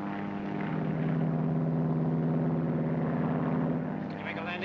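Propeller airplane from a 1941 film flying low over desert dunes before landing; a steady, loud engine drone holds throughout, with a brighter rising whine near the end.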